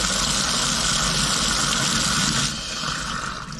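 Water rushes steadily down an unclogged utility sink drain, a loud continuous gush that eases slightly near the end.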